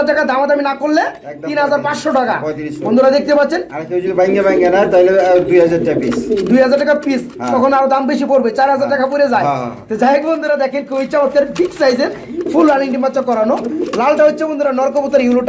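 Racing pigeons in a loft for sale coo in repeated soft, throaty rolling calls, close and loud, while someone talks over them almost throughout.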